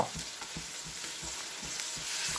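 Raw jackfruit kofta balls fry in hot oil in a pan, making a steady bright hiss of bubbling oil with soft, regular low pops underneath, heard close and fairly quiet.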